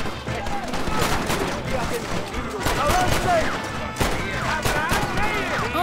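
Rapid volleys of pistol shots in Red Dead Redemption, sharp cracks fired in quick bursts amid game noise and scattered voices.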